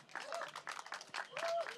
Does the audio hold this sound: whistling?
no